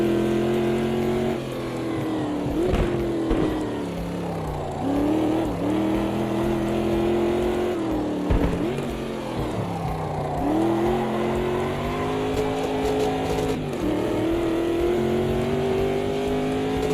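Multiclass race cars, including an LMDH prototype and GT classics, roar around a track in a sim racing game, engines droning loud and continuous with rising and falling revs as gears shift, no talk over them.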